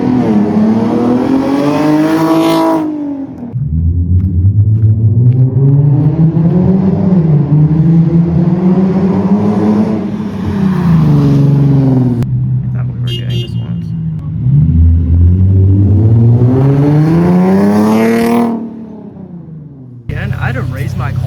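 A Nissan G37 engine revs repeatedly through a loud, raspy aftermarket exhaust, rising and falling in long sweeps with short pauses between pulls.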